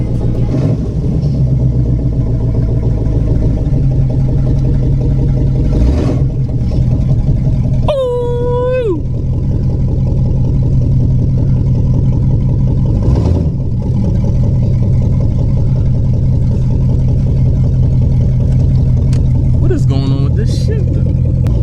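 An old car's engine runs loud and close with a steady rumbling idle that carries all the way through, and occasional brief squeals and clatters stand out over it.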